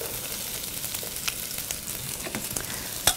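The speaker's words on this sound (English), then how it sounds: "we're going to add those to our skillet" Thinly sliced rounds of a medium yellow squash going into a hot skillet for a zucchini stir fry, giving a steady, close sizzle with faint scattered crackles and no speech.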